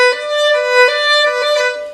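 A solo violin melody, sustained bowed notes moving smoothly through a short phrase of a song, clear and close with no voices.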